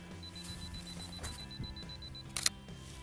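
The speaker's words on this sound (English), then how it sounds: "I'm just gonna set it to a 2-second timer" A camera's two-second self-timer ticks through a run of faint, evenly spaced high beeps, then a brief loud electronic burst near the end, all set against quiet snowy backcountry.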